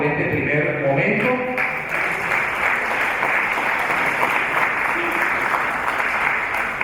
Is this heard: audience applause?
yes